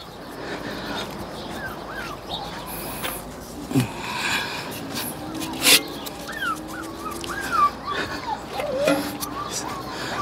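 Puppies whimper, yip and bark in short bursts over a constant outdoor background rumble, with occasional human voices nearby.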